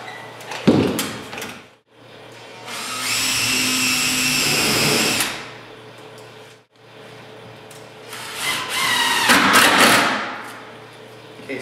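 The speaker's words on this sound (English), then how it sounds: "Pre-drill, screw that." A power drill pre-drills and then drives a screw into a door frame while a double door is being hung, two separate bursts of close, loud whirring and grinding with a quiet pause between them.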